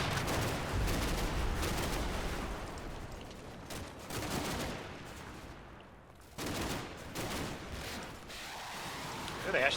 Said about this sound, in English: So the small arms fire you can hear in the background is these guys.